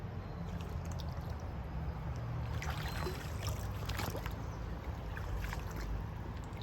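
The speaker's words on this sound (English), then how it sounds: "I have no choice but to walk in the water" Footsteps wade slowly through a lush creek, water sloshing and splashing continuously around the legs amid steady flowing-stream noise, with no talking.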